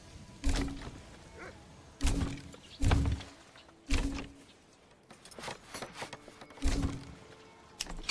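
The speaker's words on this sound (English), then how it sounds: "that is the sound of all of these buildings finally being completed" Construction completion cues in the medieval city-builder game Manor Lords, several separate thunking knocks with bright rattling tails spaced a second or so apart, fairly close and moderately loud with no talk over them.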